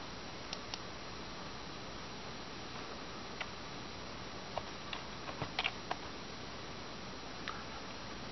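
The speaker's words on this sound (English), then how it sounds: "start typing in" Light typing on a computer keyboard, with sparse faint key clicks and a short cluster of taps over a steady background hiss.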